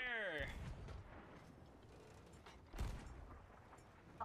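A ship's cannon in Sea of Thieves fires once as a single heavy boom partway through, preceded by a fading musical tone and followed by faint creaking and background noise, with a voice heard briefly.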